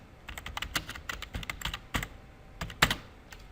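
Close, rapid clicking on a computer keyboard as code is typed, in uneven bursts of keystrokes with short pauses between them and no voices.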